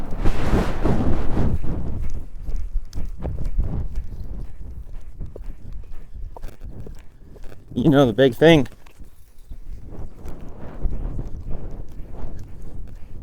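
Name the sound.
horse hooves walking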